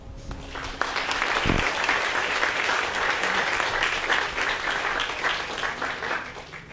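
An audience applauds to welcome a school board president at a high school gold shovel ceremony, steady sustained clapping from a crowd after a brief spoken moment, filling the room evenly.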